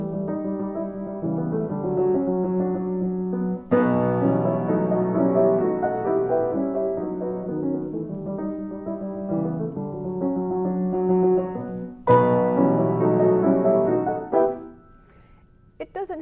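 Melody from Dance of the Sugar Plum Fairy played with its offbeat notes shifted onto the beat, a clean instrumental phrase in measured notes with a couple of sharper attacks, ending in near silence.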